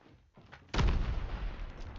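A grenade explosion in a 4v4 video game match, a sudden heavy boom that erupts after a few quiet clicks and then rumbles on, decaying slowly, loud and close, with no voices.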